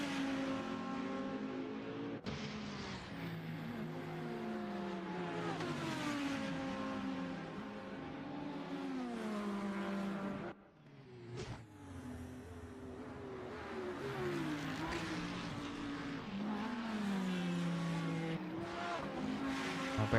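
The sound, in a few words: Audi race car engine in sim racing video game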